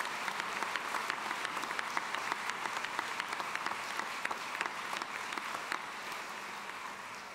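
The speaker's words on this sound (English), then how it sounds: "give them one more round of applause" Audience clapping at a college commencement ceremony, a steady dense patter of many hands filling the space, moderately distant and fading slightly at the end.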